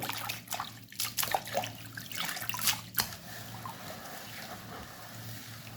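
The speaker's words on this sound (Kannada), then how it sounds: "ಸೊ ಇವಾಗ ಸಬ್ಬಸಿಗೆ ಸೊಪ್ಪನ್ನು ನೀರಿಗೆ ಉಪ್ಪು ಹಾಕಿ ತೊಳಿಲಿಕ್ಕೆ ಉಪ್ಪು ಹಾಕಿ" Dill leaves being washed by hand in a bowl of salted water: close, splashy sloshing and dripping in uneven bursts for about three seconds, then a softer, steady watery trickle.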